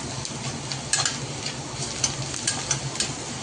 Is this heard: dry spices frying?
yes